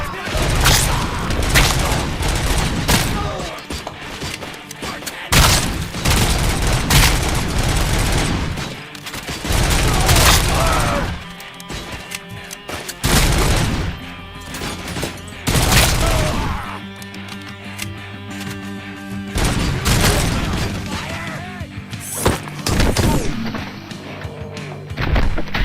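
Heavy gunfire and booming blasts from the shooter game Robocop: Rogue City come in loud, dense bursts with short pauses between volleys, repeating over a long stretch, with occasional voices underneath.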